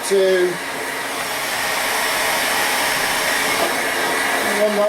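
Engine crankcases are heated to 75 degrees C in a workshop, with a hot-air tool blowing a steady, loud whooshing roar close by and only brief faint sounds at the start and end.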